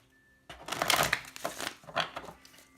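Close, papery riffling and slapping of a deck of tarot cards being shuffled, in a few quick bursts with brief pauses.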